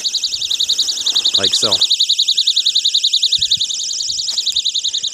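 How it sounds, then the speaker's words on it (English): An electronic tripwire alarm set up at a campsite goes off with a loud, continuous, rapidly warbling high-pitched electronic tone that sounds throughout, with someone speaking briefly over it. "when somebody obviously runs into this then is the alarm system is going to engage."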